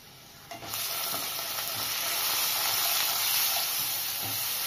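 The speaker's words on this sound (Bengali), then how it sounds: "ভালো করে কষিয়ে নেব।" Chicken sautéed in a pan with salt, turmeric, chili powder and ground cumin-coriander makes a loud, steady sizzle with faint stirring scrapes, jumping up in level just after the start and holding strong to the end.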